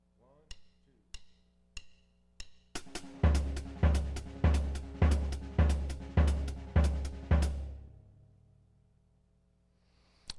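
Drum kit playing a five-note sticking pattern with the right hand moved onto the hi-hat: a few sparse sharp hits, then a steady run of loud, punchy strokes with kick and cymbal wash, fading out near the end.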